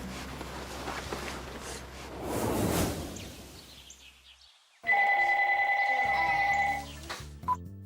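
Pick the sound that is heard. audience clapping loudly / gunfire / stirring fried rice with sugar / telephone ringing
telephone ringing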